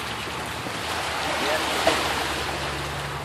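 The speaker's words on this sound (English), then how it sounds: "Those are some pretty big waves." Video-game ocean waves rush and wash in a continuous broad roar, swelling slightly toward the middle, with a faint low hum underneath.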